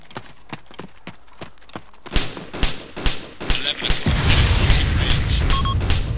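Rockets and explosions from the military video game ArmA 2: a run of light, regular ticking gives way to heavy thuds and booms, then a sustained, loud rumble of blasts.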